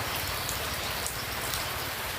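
Steady rain falls nearby, a dense continuous patter of drops on surfaces with no voices.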